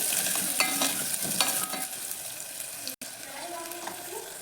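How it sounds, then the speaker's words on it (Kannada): Chopped onions frying in a pan for a bitter gourd gravy, a steady close sizzle with scraping stirs and clinks from a spoon, under faint background voice. "ಹೆಚ್ಚಿಟ್ಟಿರೋ ಈರುಳ್ಳಿನ ಆ್ಯಡ್ ಮಾಡ್ಕೊಳ್ಳಿ ಇದು ಸ್ವಲ್ಪ ಕಲರ್ ಚೇಂಜ್ ಆಗೋವರೆಗೂ ಫ್ರೈ ಮಾಡ್ಕೊಳ್ಳಿ"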